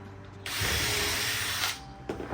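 A power drill pre-drills holes in wood for a custom staircase, one sustained loud whir of a bit boring through timber, starting abruptly and running close for over a second before cutting off.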